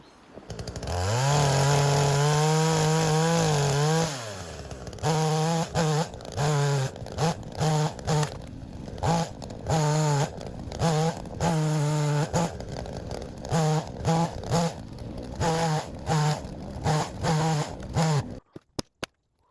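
A chainsaw revs up loudly nearby, then bogs and surges in repeated bursts as it cuts into a tree, the bar getting pinched as the tree shifts, stopping near the end.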